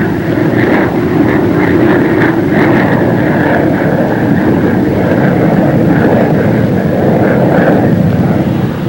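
A Banshee Navy jet fighter in a shallow dive roars steadily and loudly throughout, its engine drone continuous with no talk over it.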